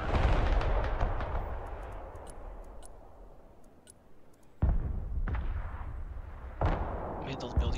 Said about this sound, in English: Rocket artillery at your command, nice.